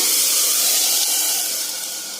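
Cooked toor dal is tipped into a pan of fried onions, setting off a loud, steady sizzling hiss that eases slightly as it settles.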